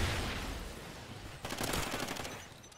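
Rapid automatic gunfire from a fast-killing gun in a Call of Duty Ghosts Kill Confirmed online match, a dense crackling burst that swells partway through and runs steadily to the end.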